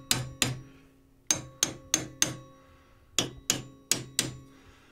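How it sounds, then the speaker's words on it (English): Crisp metallic taps of a hammer striking the underside of a lathe tool rest, delivered in small clusters of two to four evenly spaced blows with brief pauses between, close and ringing, no talk. "So basically I just tap with a hammer on the bottom a little bit."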